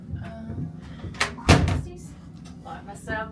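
A shower door closes with one sharp thud inside a Royal Caribbean Harmony of the Seas interior cabin, heard close among lighter handling clatter, while people talk over it.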